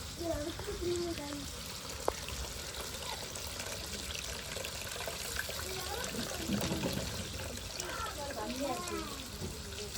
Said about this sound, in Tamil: நல்லா புளியாக கரைச்சி ஊற்றணும்